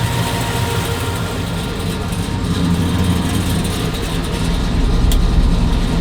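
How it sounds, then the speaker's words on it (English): A 1968 Chevrolet Chevelle with a 396 big block V8 running, a deep steady low rumble with a smooth idle pulse, close and loud, rising slightly in intensity toward the end with no talk over it. "Engine sounds nice and healthy."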